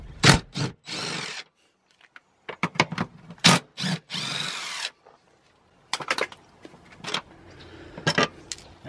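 Power tool taking out 16mm bolts on the rear of a car seat during interior detailing, heard as short loud bursts of whirring and ratcheting separated by pauses, with metallic clinks in between.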